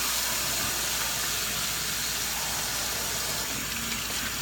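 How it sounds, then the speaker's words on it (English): A home bathroom faucet runs steadily for handwashing, making a continuous, even rushing hiss close by that does not change for the whole stretch. No one speaks over it. "So you'll want to turn on the faucet."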